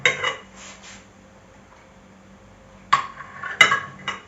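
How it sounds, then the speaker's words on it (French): A knife cuts a slice of slightly warm egg flan on a plate, producing a few clinks and scrapes of metal on china in short bursts separated by quiet pauses. "je vais m'en couper une petite part"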